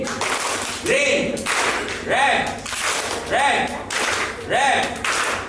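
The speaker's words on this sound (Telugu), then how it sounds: "క్లాప్ కొట్టుకున్నావు" Children clapping during a vacation Bible school game, a few sharp claps coming in a regular beat about once a second, with an adult calling out game instructions in between.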